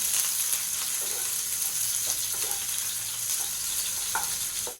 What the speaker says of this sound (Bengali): পেঁয়াজগুলো আমি দিয়ে দিলাম